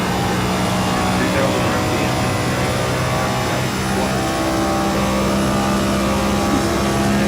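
NASCAR Next Gen race car engine in the iRacing sim at Kansas Speedway, a steady loud drone that dips as the car coasts off throttle into a corner, with a voice talking over it.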